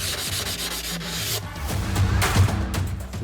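An abrasive pad rubs across the edge of a tile in a few scraping, gritty strokes, close and fairly quiet, with no talking.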